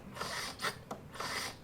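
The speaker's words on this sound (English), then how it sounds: "we'll give our pump a few pulls" Hand vacuum pump pulled several times on the power steering reservoir of a 2003 Toyota Camry 2.4L, giving short rasping mechanical strokes in a quick rhythm, close and fairly quiet with no talk.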